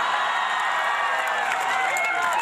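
Audience applause at a live event, a steady wash of clapping and crowd noise that stays loud and even from start to finish.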